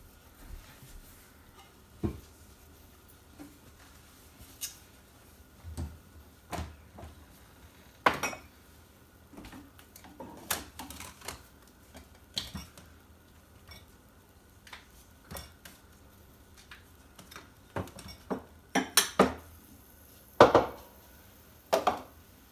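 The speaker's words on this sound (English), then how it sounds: "I'll do a little cleanup here at the sink" Dishes being cleaned up at a kitchen sink: scattered clinks, taps and clatters of plates and utensils at an irregular pace, fairly quiet and close, with a busier burst of knocks near the end.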